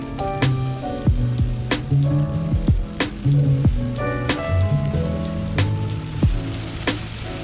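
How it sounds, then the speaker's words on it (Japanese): Heavy summer downpour in Florida, a dense steady patter of rain striking nearby surfaces with many distinct close drops and splashes, loud and continuous with no voices. "この辺の夏の雨の降り方はこんな感じです。"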